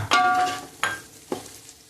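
Ghee hisses and sizzles in a pan as masala is added for mutton biryani, with a few bursts of frying and stirring scrapes that fade between them, close and moderately quiet.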